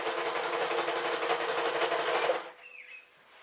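A sewing machine stitching a pink dress whirs in a steady, close, fast-running buzz for about two and a half seconds, then stops abruptly, leaving a quiet room.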